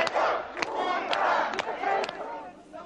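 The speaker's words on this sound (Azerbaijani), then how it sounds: "Onlar qələbə bizimdir deyə qışqırırlar." A large Moscow crowd massed outside the parliament building during the August coup, shouting a loud unison battle cry of victory. Sharp bursts punctuate a sustained roar of many voices.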